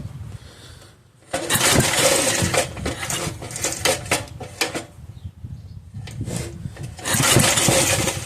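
A Bolens rototiller engine, held by hand rather than clamped down, cranks and tries to fire in several loud bursts, clattering with metallic rattles between brief pauses, without catching.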